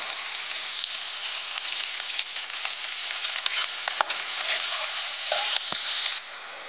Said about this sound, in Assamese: পিঁয়াজকণ ভজা হৈ গ'ল